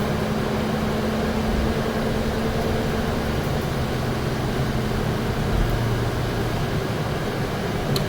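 A Nova Bus LFSe+ electric bus rides along in Montreal, heard from inside as a steady, broad hum of air conditioning and road noise that stays even throughout, with nobody speaking.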